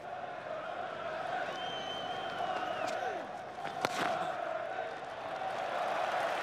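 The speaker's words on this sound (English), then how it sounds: "enough for the crowd to give him a standing ovation" A cricket crowd at Old Trafford applauds Michael Vaughan's century during the 2005 Ashes, a sustained distant wash of clapping and cheering under a commentator's voice.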